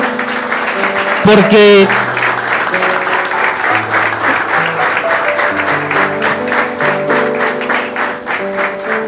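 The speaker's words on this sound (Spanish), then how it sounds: "Quiero que le demos un fuerte aplauso al Señor" Strong congregational applause in a church service, continuous and full, with a voice speaking and brief music-like tones running beneath the clapping.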